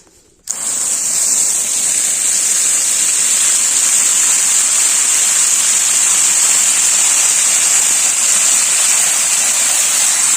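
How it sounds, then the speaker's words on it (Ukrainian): A garden hose pours a steady, loud stream of water onto soil around newly planted strawberries during a drought, a continuous hissing gush that starts abruptly and runs unbroken with no talk. "Беру шлангу."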